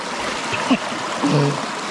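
River water flows and trickles through a forest, a steady close rushing with small splashy gurgles, under faint voices.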